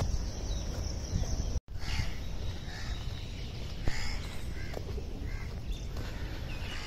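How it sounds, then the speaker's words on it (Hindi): Crows caw and other birds call at intervals around the grounds of the Red Fort in Delhi, the calls moderately near over a constant open-air hush, with a brief dropout partway through and no talking. "लेकिन पक्षियों की आवाज़ है।"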